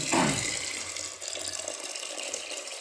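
Soybeans being washed and stirred in water for tempeh making, with a splashy pour at the start giving way to steady sloshing and rinsing close by.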